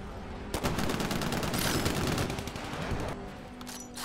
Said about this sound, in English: That goddamn smart pistol, bruh. Fucking hate that thing.